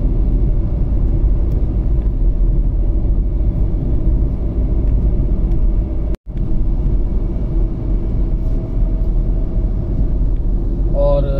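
A car cruises smoothly along the 14-lane Delhi Meerut Expressway by day, a steady close road rumble of engine and tyres running unbroken, with a brief dropout midway.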